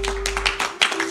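An audience claps at a church service, a few separate hand claps in loose rhythm over a steady electrical hum, moderately close and brief.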